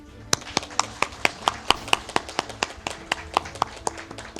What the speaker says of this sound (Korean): 모두 함께 큰 박수를 보내주시기